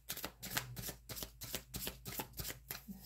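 Tarot cards are shuffled by hand in quick, crisp riffling bursts, a rapid papery rhythm repeating over a few seconds, close and clear with no talking.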